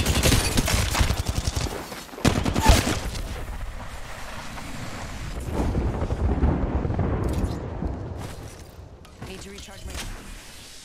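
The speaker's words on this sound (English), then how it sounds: "Airstrike incoming." Airstrike explosions in Apex Legends: a rapid barrage of heavy blasts, loudest early on, then rumbling and fading, with a player speaking over parts of it.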